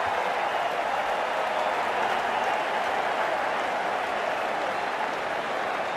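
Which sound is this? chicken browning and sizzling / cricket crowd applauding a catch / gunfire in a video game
cricket crowd applauding a catch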